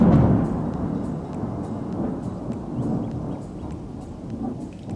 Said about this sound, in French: Ok, c'était l'orage.